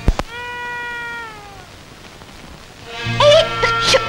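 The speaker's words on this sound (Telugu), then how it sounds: "పిల్లి అలా లడ్డు తింటుంటే చూస్తూ ఊరుకుంటావే" A cat meows twice: a long, drawn-out cry first, then a shorter, wavering meow a moment later. Both are near and clear over a faint, steady background hiss.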